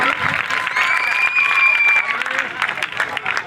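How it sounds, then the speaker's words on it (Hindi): A crowd claps steadily to welcome the winner of a general knowledge competition at a prize ceremony, the applause dense and sustained throughout with a voice speaking over it. "हाँ, तालियों से स्वागत होना चाहिए भाई।"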